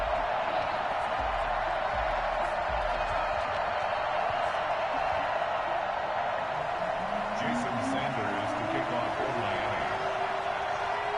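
A steady stadium crowd roar fills a Madden NFL football game between the Miami Dolphins and the Indianapolis Colts, a dense, continuous murmur of many voices holding at an even level throughout.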